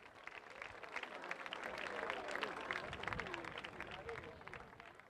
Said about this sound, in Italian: Io chiedo un ultimo applauso proprio alla loro memoria.